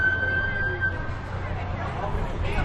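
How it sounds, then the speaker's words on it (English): Emergency sirens wail steadily at the livestock building of Rodeo Houston during a shooting incident in March 2017, with a crowd babbling underneath throughout. "Now we have sirens going on."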